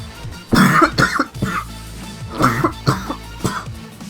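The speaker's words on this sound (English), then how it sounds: "Apparently my cough is deciding not to play with me." A fit of loud, close coughs, several harsh bursts in quick succession with short pauses between them.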